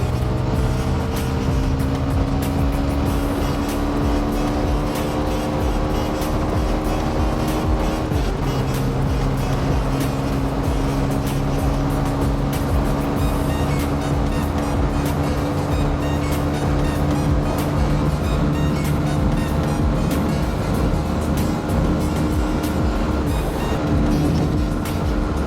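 A GPX Demon 250 motorcycle ridden at top speed on a road near Savar, its engine holding a steady high drone with a brief shift in pitch partway through, loud and continuous under heavy wind rush.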